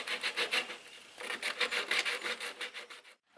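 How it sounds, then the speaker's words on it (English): Sandpaper rubbing over a wild turkey spur bone, cleaning off fibrous tissue, in quick rhythmic rasping strokes that are close and steady, with a short pause near the end. "We're going to take some sandpaper and try to get rid of that."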